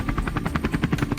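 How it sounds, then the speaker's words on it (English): Toy or sound-effect helicopter arriving at a Lego police station helipad: steady rapid rotor chop, loud and close, with a rhythmic thumping pulse throughout and no talking. "we can slide out the helipad and call in the chopper for upcoming missions"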